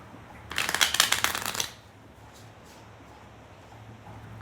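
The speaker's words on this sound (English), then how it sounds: "one for mind, one for body, one shuffle for spirit" A deck of Gypsy Witch fortune-telling cards is riffle-shuffled in one quick, crisp, fluttering burst about a second long, close and fairly loud, followed by quiet.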